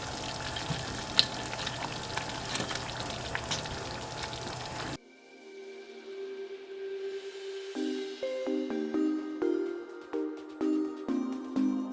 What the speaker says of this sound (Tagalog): Hayaan muna natin siya kumulo.